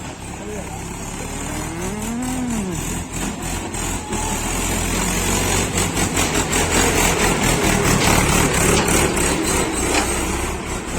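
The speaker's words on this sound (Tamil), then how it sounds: "டிராக்டர் ஒன்று வருது." A tractor engine idles and chugs, growing slightly louder as it approaches, with faint voices and outdoor noise of a forest pilgrimage trail mixed in.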